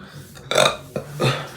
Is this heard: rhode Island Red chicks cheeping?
no